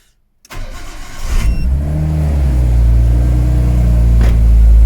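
A Nissan Skyline R32's engine cranks and catches after a short silence, then settles into a steady, loud idle rumble close by.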